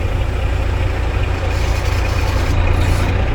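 A tractor-trailer truck's engine rumbles loud and close during a pretrip brake test, a heavy low drone that holds steady as the rig tugs against the set brake, with no talking.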